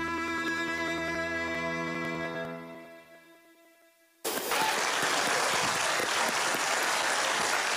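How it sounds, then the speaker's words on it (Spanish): A song dedicated to Efraín Ruales fades to near silence, then an audience bursts into loud, sustained applause that holds steady to the end. "Un fuerte aplauso"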